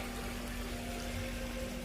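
Water pouring into a river at a riverside resort in Chiang Rai, Thailand, a continuous faint rushing wash with a steady hum under it.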